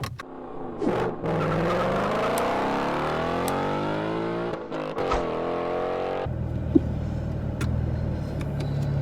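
A 2016 Chevrolet Camaro V6 with a six-speed manual hums and revs while driving, its pitch rising and falling through gear changes, then settling into a lower steady drone with road noise.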